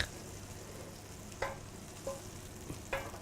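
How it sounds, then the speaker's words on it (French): Butter melts in a frying pan for Ardennes-style trout, giving a soft continuous sizzle broken by a few sharp scraping stirs, close and quiet with no talk. "on va faire fondre du beurre"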